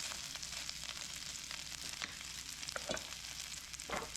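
A rice patty fries in a greased pan, giving a soft, continuous sizzle with scattered small pops and crackles throughout, fairly faint and steady.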